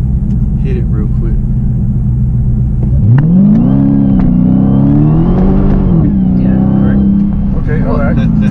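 A Dodge Hellcat sits idling with a deep steady rumble, then is revved hard, its engine note climbing and swelling in a loud roar before easing and rising again, with faint voices in the background.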